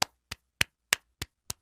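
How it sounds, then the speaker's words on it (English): Six sharp hand claps sound alone at an even, steady pace, each one crisp, close and quickly fading. "I clap!"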